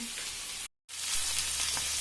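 Cabbage frying in oil over low heat, a steady close sizzle broken by a brief silent cut before the sizzling resumes just as strong, with no talking.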